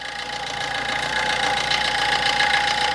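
A 2011 Maruti Suzuki Swift Dzire sits idling, its engine giving a steady, fairly loud hum with a faint knocking rattle and vibration throughout, close by and with no one talking.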